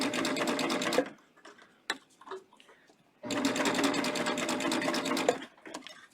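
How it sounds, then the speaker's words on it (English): A coverstitch sewing machine hems knit fabric, running in two steady, rapid bursts of stitching separated by a quiet pause with faint handling noises, close and clear with no talking. "I'm going to sew all the way around."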